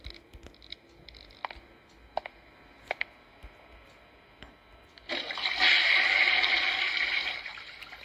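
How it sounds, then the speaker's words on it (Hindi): In the horror game Five Nights at Shrek's Hotel, a few sharp clicks come first, then a toilet flush rushes in, loud and close, for the final three seconds. "फ्लश कर दिया हमने"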